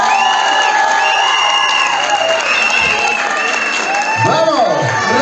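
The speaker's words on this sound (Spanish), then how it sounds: "Merece un aplauso, por favor." An audience at a Miss Gay Venezuela beauty pageant breaks into sustained applause and cheering, with whoops and shouts over the clapping and a presenter's voice mixed in.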